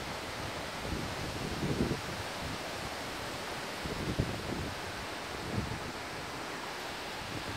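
Typhoon wind blowing hard across Gyeongsangbuk-do, South Korea: a steady broadband roar with gusty swells and low buffeting rumbles, no voices.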